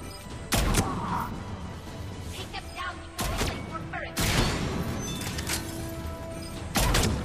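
Turret gunfire in Mass Effect 3 comes as loud bursts and heavy impact cracks, several separate volleys spread across the moment, with someone talking over parts of it.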